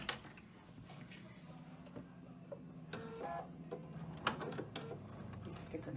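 Sewing machine stitching a D-ring in place on a bag: quick, faint mechanical ticking and clattering stitches in short uneven bursts, with a voice talking quietly throughout.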